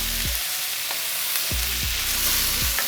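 Fried rice with shrimp stirred in a frying pan, a steady loud sizzle with repeated scraping stirs of the spatula against the pan, close up and with no talking.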